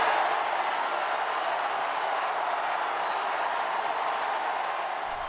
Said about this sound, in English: You can hear the crowd erupt when the white smoke poured from the Sistine Chapel